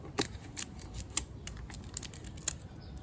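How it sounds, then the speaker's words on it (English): Scissors snipping the edges of copper contact paper while making a planter, a quiet series of crisp, close clicks and cuts at an uneven pace, with no talking. "you want to snip those edges a little bit"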